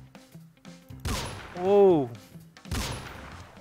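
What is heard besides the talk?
shotgun shots in a gangster war video game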